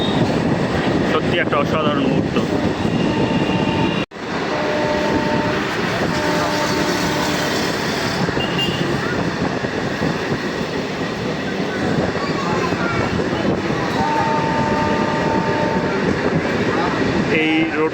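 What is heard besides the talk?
train running on rails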